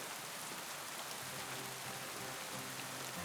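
Rain falling in Kingdom Come: Deliverance II, a soft, constant hiss of drops that carries evenly throughout, fairly quiet and with no voices.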